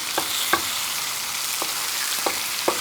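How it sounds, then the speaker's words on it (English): Bacon sizzling on a Blackstone camp griddle, a steady hiss of frying with a few soft pops and scrapes scattered through, no talking. "So let's get some bacon down here."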